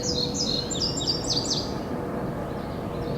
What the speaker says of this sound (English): Song sparrow.